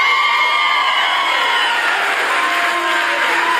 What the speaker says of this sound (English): Why did that make you guys cheer?